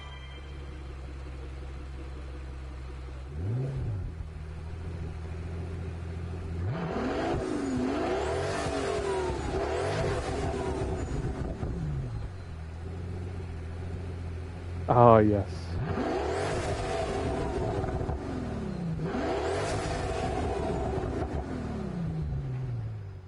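An engine-swapped car in Gran Turismo 7 revs hard in several long, rising and falling bursts, loud and close, with a brief squeal near the middle; a voice speaks briefly over it.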